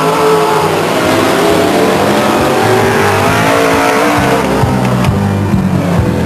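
Race car engines roar loudly on the Stockton 99 Speedway oval, a sustained snarl with pitch shifts as cars pass close by, steady and dense throughout without any voices.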